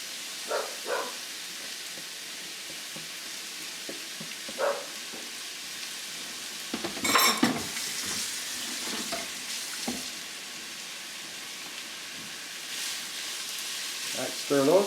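Zucchini noodles sautéing in a hot pan give a steady, moderately loud sizzle, broken by a few clattering stirs and a louder burst of scraping partway through. Brief faint sounds like talk come and go.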